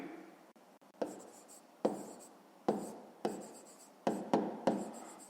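A pen scratches across paper while a fifth-grade math exercise is worked out, several quick close strokes in bursts with short pauses between them, and no talking.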